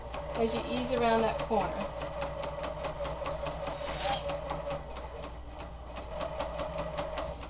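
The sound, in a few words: sewing machine stitching a quilt seam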